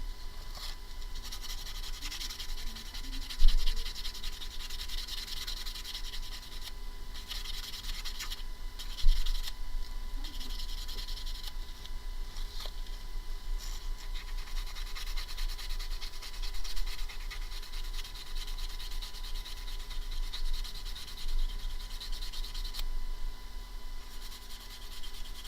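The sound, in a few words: sanding a tiny beaded stud earring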